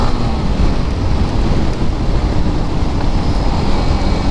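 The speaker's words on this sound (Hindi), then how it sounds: "तो गाइस बारिश भी दे रहा है" Steady, dense rain falls outdoors during a ride on a Kawasaki Z900 motorbike, a continuous close hiss and patter that never lets up across the few seconds, with no voices.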